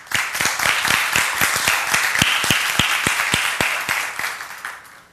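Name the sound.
audience applause for the presenters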